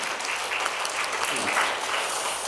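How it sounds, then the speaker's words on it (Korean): A Korean church congregation applauds during a Sunday service, a continuous wash of many hands clapping at an even level throughout, with no voices standing out. "우리 다시 한번 하나님께 영광의 박수를 드리겠습니다."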